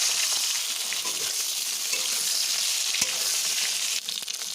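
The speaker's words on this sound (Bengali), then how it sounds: "মাছ ভাজা তেলেই আমি বেগুনগুলো ভাজছি" Eggplant slices fry in oil left over from frying fish, a loud, continuous close-up sizzle with occasional sharp pops and spatters, with no voices.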